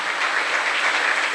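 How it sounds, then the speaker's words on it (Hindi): A gathering at a spiritual picnic celebration bursts into loud, sustained clapping, a thick continuous wash of many hands with no gaps or talking. "इसलिए अपने लिए जोर से ताली बजाइए"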